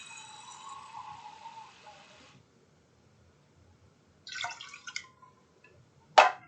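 A half cup of water goes into a pot that already holds vinegar and sugar: a soft rushing pour, then quiet, then a short splashy trickle and a sharp knock near the end, all faint and with no talk.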